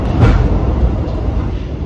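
A long Indonesian passenger train on the southern line, pulled by a CC 206 locomotive with fifteen cars: premium economy coaches, a restaurant car and a generator car. It rolls past with a loud, close, continuous rumble and no talk.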